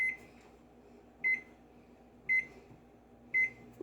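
An oven timer being set gives four short, bright electronic beeps at roughly one-second intervals over a faint low hum.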